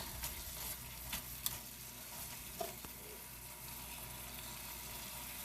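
Chicken sizzling in a frying pan while being flipped: a steady, faint hiss of frying with a few soft clicks and taps of the turning utensil.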